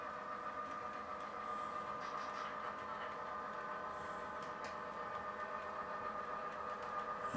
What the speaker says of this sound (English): So here comes our train.